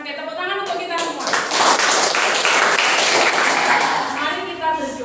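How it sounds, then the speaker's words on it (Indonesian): A classroom full of students claps together in sustained applause, dense and steady, with a voice speaking over it. "Oke, tepuk tangan untuk kita semua."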